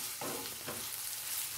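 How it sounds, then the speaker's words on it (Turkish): Peppers and garlic sizzle in a hot pan with a couple of brief stirring scrapes, moderately close and steady, no talking. "Kavuralım biberlerimizi ve sarımsağımızı."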